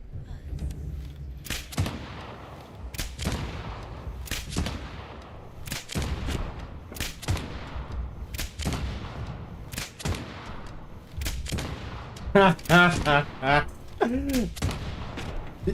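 Gunfire in Fallout 76 rings out as a series of loud, sharp shots at irregular intervals, each with a short echoing tail. A voice briefly speaks near the end.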